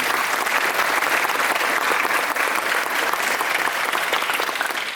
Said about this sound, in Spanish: Vamos a dar un aplauso para la docente.